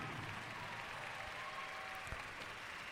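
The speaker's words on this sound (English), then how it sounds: "give a nice warm round of applause all together for your gentlemen on the stand" Steady applause from a swimming championship audience for the men's 1,000 free finalists on the podium, a soft even patter that holds throughout without a break.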